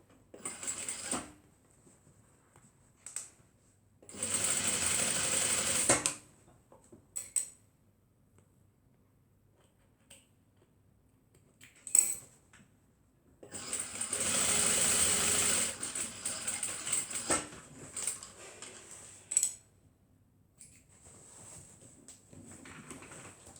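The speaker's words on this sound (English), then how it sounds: "lift up your sewing machine head" A domestic sewing machine stitches a tote bag in two sustained runs of a few seconds each, fairly close and steady, with quieter handling clicks and rustles between them and no talk.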